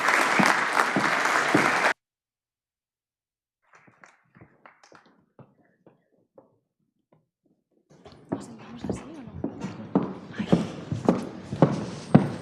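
A short burst of audience clapping welcomes panel speakers at an entrepreneurs' round table, then a silent gap with scattered faint taps, followed by renewed loose, uneven claps nearby.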